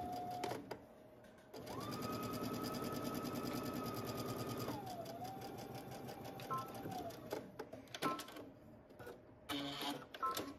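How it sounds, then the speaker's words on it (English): A sewing machine stitches back darts on a skirt in one steady run of several seconds, rising in speed and then easing down, with brief clicks and handling sounds around it. "while you're at your machine, go ahead and make the 2 darts that are on the back of your skirt"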